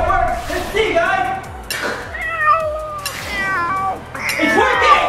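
Kittens meowing repeatedly in high, wavering cries that overlap one another. A person talks over and between the meows.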